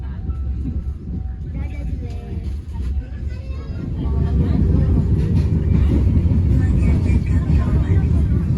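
The Airlangga passenger train from Pasar Senen to Surabaya Pasar Turi rumbles steadily, growing louder and heavier partway through, with low mechanical drone and some talking in the background.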